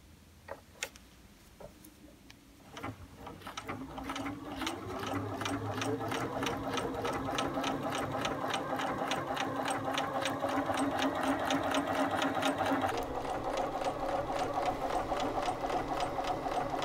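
A Bernina sewing machine stitching a seam, starting with a few clicks and then settling into a steady, fast mechanical whir and rhythmic ticking that runs without a break.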